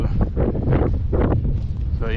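Gusty wind buffets the microphone on a rocky, icy Appalachian Trail section near Duncannon, Pennsylvania, a loud continuous rumble with swelling gusts, while a person talks over it.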